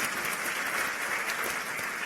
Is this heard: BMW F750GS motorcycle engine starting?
no